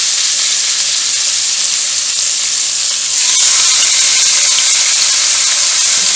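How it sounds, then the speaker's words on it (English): Seasoned beef cheeks laid meaty side down in hot oil in a pot hiss and sizzle loudly and steadily up close, the spitting growing stronger partway through. "we're going to start with the searing of the beef"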